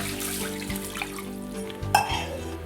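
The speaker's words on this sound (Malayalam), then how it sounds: "ഗ്ലാസ് വെള്ളം ഒഴിക്കുക." Water is poured into heated chilli powder in a pan for a Kerala fish curry, giving a brief wet sizzle and splashing with a clink of the pan near the end, close and moderately loud.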